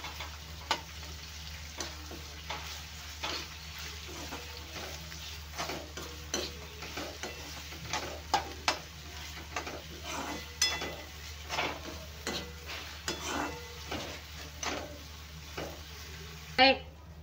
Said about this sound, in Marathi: कांदा आपल्याला छान लाल होईपर्यंत भाजून घ्यायचा आहे।